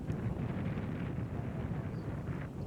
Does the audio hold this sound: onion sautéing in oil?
no